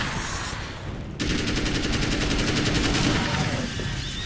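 Gunfire in the video game Alan Wake's American Nightmare: a dense, continuous stream of rapid shots kicks in after a brief quieter opening and keeps rattling loudly to the end, with no talk over it.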